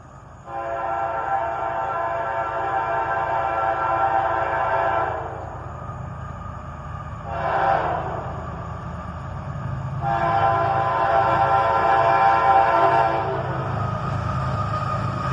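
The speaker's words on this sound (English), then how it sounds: "A horn show from the engineer on a 4-locomotive lash-up with an ES44" A four-locomotive train lash-up led by an ES44 sounds its horn in a show, with long loud blasts, a short toot, then another sustained blast over a low rumble of the moving train.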